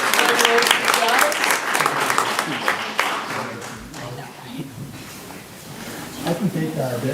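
Applause for the band at a high school board of education meeting, loud at first with overlapping talk, then thinning into scattered claps and voices before a brief swell near the end.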